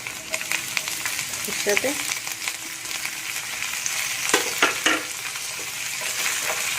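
Capsicum frying in a pan with ginger paste sizzles steadily while a spoon stirs and scrapes with intermittent clinks, and a voice speaks briefly over it.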